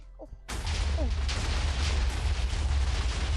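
After a brief quiet moment with a faint voice, loud continuous explosions of massed bombs in Minecraft erupt and keep rumbling in a dense, booming barrage.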